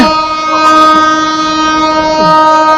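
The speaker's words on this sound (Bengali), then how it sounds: "তো ট্রেন ছেড়ে দিল আক্কেলপুর স্টেশন থেকে" The Nilsagar Express pulling out of Akkelpur station in Bangladesh: a loud, sustained horn tone sounds throughout over the rumble of the moving rail cars, close by and with no voices.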